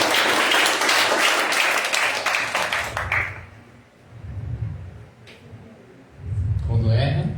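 A church congregation claps loudly for about three seconds, then the applause stops abruptly and a voice carries on speaking.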